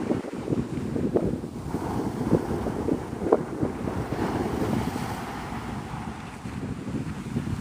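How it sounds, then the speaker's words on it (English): Strong, steady wind buffets the microphone at Navarre Beach near Pensacola at sunrise, a continuous low roar with gusts layered over the wash of surf, with no voices. "All you'll hear is wind."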